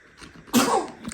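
One sharp, explosive sneeze bursts out at close range after a brief breathy intake, loud and abrupt before trailing off.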